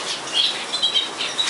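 Canaries in an aviary fluttering and beating their wings in quick bursts as they are caught, with a few faint chirps mixed into the close, soft flapping.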